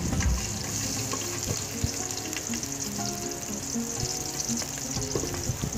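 Ginger sautéing in hot oil in a pan, a steady crackling sizzle overlaid with scraping and clinking from stirring, close and fairly loud, with no voices.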